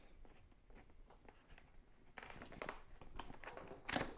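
Tape being peeled and cardboard flaps crinkling while an EVGA power supply box is pried open, soft scratchy rustling at first, then louder tearing and crackling bursts near and alone.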